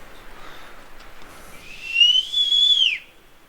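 A person gives a single rising then falling whistle lasting about a second and a half in a quiet outdoor setting in the Canadian Rockies, trying to get a bear's attention.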